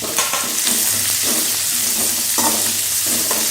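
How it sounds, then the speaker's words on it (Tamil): Onion, curry leaves, green chili and crushed garlic sautéing in a pan, with a steady broadband sizzle and repeated scraping stirs of a spatula, close and loud throughout. "எல்லாமே ஒவ்வொரு வதக்கிட்டு சேர்த்திக்கோங்க"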